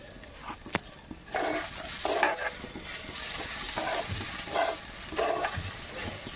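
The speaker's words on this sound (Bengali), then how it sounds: "মশলাটাকে ভালো করে ভেজে নেব" Ground coriander, chilli and cumin paste fries in a pan with a close hissing sizzle, interrupted by repeated scraping strokes of a spatula and an early sharp tap, with no speech.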